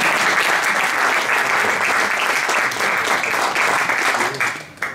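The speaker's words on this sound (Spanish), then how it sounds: "Sí, merece un aplauso el director del instituto." Warm, loud applause from an audience at a poetry reading fills the room for the whole stretch, many hands clapping densely and evenly before it starts to fade at the very end.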